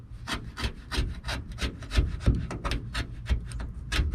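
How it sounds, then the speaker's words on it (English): A hand scraper strips peeling paint from the body of a Chevy van in quick, rhythmic rasping strokes, about three or four per second, close and crisp, with no voices. "But you can get it all off with the scraper."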